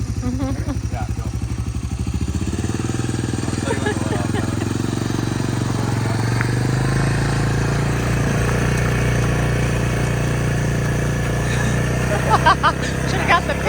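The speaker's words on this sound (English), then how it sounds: "Get it started, tune your carburetor, make sure your idle's set." A Honda CR500 engine fitted to an ATC250R three-wheeler, started and running, a loud rough idle that settles into a steady throbbing hum, close by, with people talking over it.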